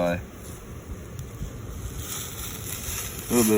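Wind blows outdoors beside maple sap boiling in the open air, a soft steady gusting rush, with a louder burst at the end.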